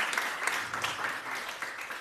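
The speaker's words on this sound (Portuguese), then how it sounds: "Aplauda o Senhor, por favor." A church congregation claps together in steady, dense applause, the many overlapping claps forming a continuous, fairly close wash of sound with no speech over it.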